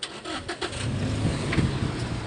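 A Makati Express cargo vehicle reverses on a street, its engine running steadily at moderate loudness with some rumble and passing noise, no talk over it.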